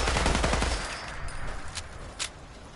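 A short burst of rapid gunfire in the game Fallout 4 cracks loudly at the start, then trails off into scattered fainter shots and a couple of distant pops.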